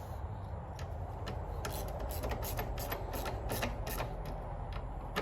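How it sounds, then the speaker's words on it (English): A ratchet wrench tightens the bolt of a Xitomer highway peg on a 2023 Kawasaki KLR 650 motorcycle, giving a run of quick, close, soft clicking strokes over a low background hum, with no talking. "Now we tighten it with the ratchet."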